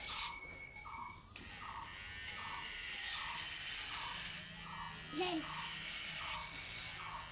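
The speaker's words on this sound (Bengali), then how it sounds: "চুল কাটাও শুরু হয়ে গেছে। দোয়া করেন যে মেশিন দ্বারা কাটতেছে মেশিন যেন আবার চার্জ যেন শেষ না হয়ে যায়" An electric hair clipper cuts hair with a steady, faint buzz that runs under rhythmic short pulses, and voices speak quietly in the background.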